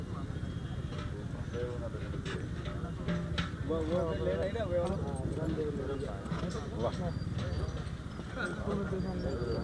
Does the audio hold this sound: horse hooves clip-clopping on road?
yes